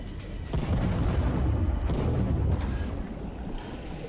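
Torpedo impacts on an enemy ship in the underwater game Diluvion: a sudden heavy boom around half a second in, then a sustained loud low rumbling roar of explosions and churning water that slowly fades.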